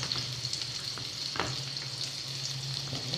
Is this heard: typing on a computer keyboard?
no